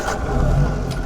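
A 1952 MG TD's small engine turns over and catches, settling into a close, steady low rumble with a brief higher burst at the start and again near the end.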